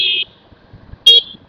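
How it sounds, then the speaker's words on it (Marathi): A car horn honks twice from a vehicle behind on a Nagpur road near flyover construction, two short loud toots about a second apart over quiet traffic. "मागवाला हॉर्न वाजून राहिला, डोक्यावरून नेतं वाटतं."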